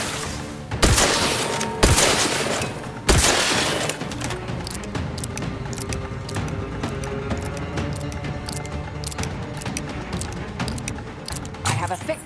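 Gunfire in The Outer Worlds: a few loud shots early on, then continued rapid firing and impacts mixed with combat noise, under a voice speaking.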